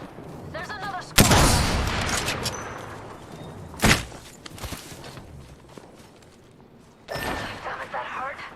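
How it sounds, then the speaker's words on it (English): Gunfire in Apex Legends erupts in a loud burst of shots, then a single sharp report, then another flurry of fire near the end, with softer in-game clatter and movement between the bursts. "I'm opening fire."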